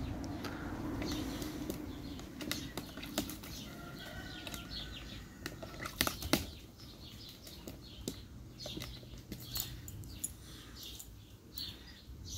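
A pet raven flaps its wings in flight, soft irregular wingbeats and fluttering bursts heard near the listener, with a few sharper thumps and faint background noise, no voices.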